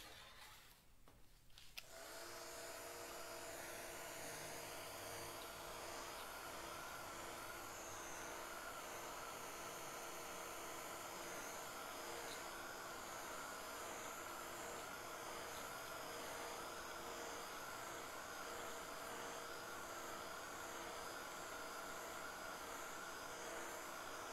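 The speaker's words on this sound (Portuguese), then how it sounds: "Deixar secar um pouquinho, vou usar o secador." A hair dryer drying paint on an MDF panel switches on after a brief rustle and then blows steadily, a loud, even whooshing roar with a constant motor whine throughout.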